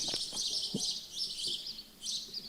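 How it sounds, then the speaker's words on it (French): Outdoor birds chirp in short high bursts several times, moderately close, with faint low thumps in the background and no speech. "on va entendre le bruit des oiseaux"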